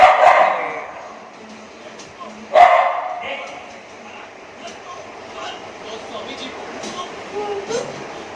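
A pet dog barks in a home, one loud bark at the start and another a couple of seconds later, with people talking around it.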